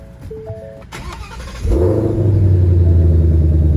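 A 2020 Shelby GT500 V8 fires up after a short starter crank, settling into a loud, steady, deep idle rumble close by.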